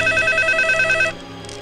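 A telephone in a Telugu film scene rings with a loud, close electronic warble in a steady pulsing pattern, then cuts off abruptly about two-thirds of the way through, leaving a quiet room.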